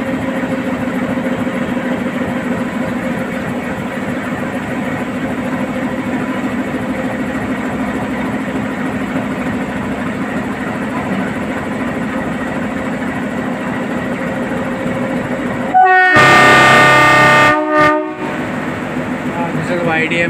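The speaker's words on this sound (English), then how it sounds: "YDM4 departing from Coonoor to Udhagamandalam." YDM4 diesel locomotive pulling a passenger train out of Coonoor station toward Udhagamandalam, a steady engine rumble throughout, then a loud horn blast near the end, with some talking.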